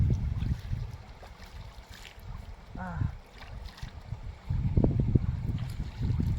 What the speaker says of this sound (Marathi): तर हे असं खळखळ वाहणारं पाणी आहे